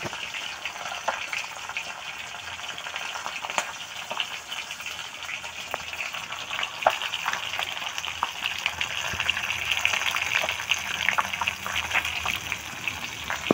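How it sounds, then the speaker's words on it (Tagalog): Steady hissing sizzle of fish frying in a pan, continuous and fairly close, with occasional pops and crackles throughout. "At ngayon ay piniprito na natin yung isda na ating ulamin."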